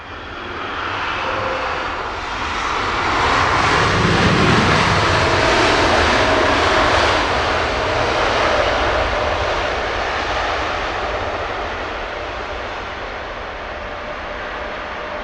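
A British Airways airliner arriving at Heathrow with flaps down gives a loud, broad engine roar that swells as it passes overhead and then slowly fades.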